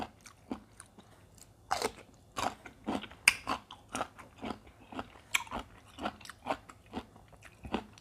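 Crisp bites and chewing on crunchy pickled Pimsen mango, eaten with fermented fish chili dip, come as a steady run of sharp close-up crunches, loud and repeated, with no talk over them.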